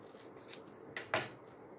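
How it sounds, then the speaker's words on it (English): Scissors cutting through decoupage material, a few short faint snips and rustles with one sharper crisp cut near the end, close and quiet with no talking. "Let's cut it here. So roughly I have cut it."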